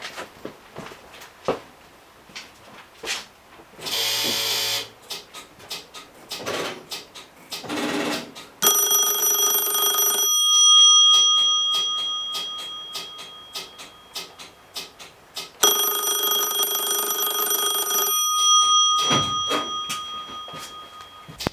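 An old telephone's replacement ringer rings for an incoming call in two long, loud metallic bursts, each lasting several seconds with a gap between, after some clicks and handling noises.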